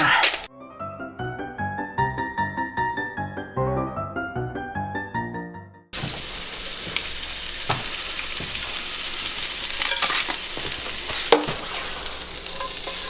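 Onions and asparagus fry in a pan, seasoned with salt and pepper, and give off a steady, dense sizzle with occasional stirring clicks. The sizzle follows a few seconds of tuneful music.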